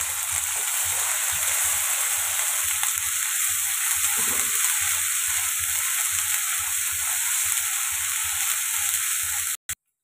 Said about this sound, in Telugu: ఇది కూడా ఫ్రై చేసుకున్నాం పచ్చివాసన పోయేదాకా